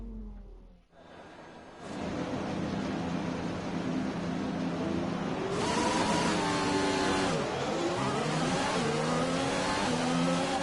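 A race car engine in the F1 2020 video game idles low, then revs up hard on a practice start into a sustained high-pitched whine with gear shifts, loud and close, with no talking.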